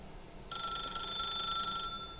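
A telephone rings in The Stanley Parable: a sudden bright electronic ring starts after a moment of quiet, holds steady for over a second, then cuts off, leaving faint room tone.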